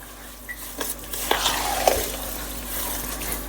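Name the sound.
mixing salt into sour pickle (khatu athanu)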